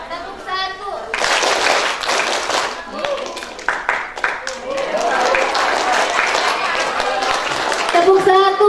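Children clapping along in a counting clap game, bursts of hand claps mixed with lively kids' voices and chatter, fairly loud and continuous with a voice singing or calling over it.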